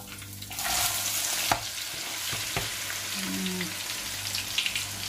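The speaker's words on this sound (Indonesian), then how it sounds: "sekarang kita goreng yang biasanya" Peanuts frying in a pan of hot oil, a continuous close sizzle with scraping stirs and a few sharp clicks of a utensil against the pan, alone without talk.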